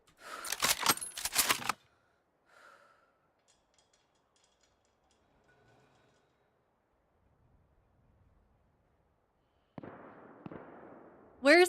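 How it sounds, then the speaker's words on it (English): Gunshots in the survival game DayZ: a cluster of sharp, loud rapid reports at the start, then near silence with faint distant sounds, and a later burst of noise with a voice near the end. "Where's the guy shooting these guys?"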